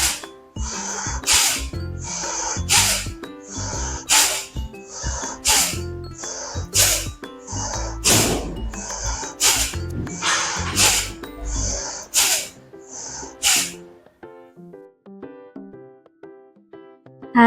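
Forceful rhythmic breathing during pranayama practice, a dozen sharp hissing nasal exhalations in a steady beat roughly one per second, then quieter breathing at the end.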